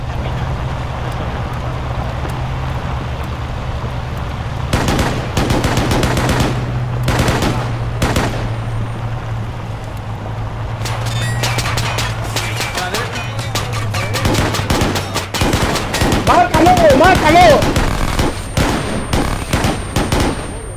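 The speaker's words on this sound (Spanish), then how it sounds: "Abre fuego contra todo lo que veas." Dense automatic and rifle gunfire in Arma 3 during a simulated assault on the Merville battery: rapid, overlapping bursts and sharp cracks, loudest in the second half, over a steady low rumble.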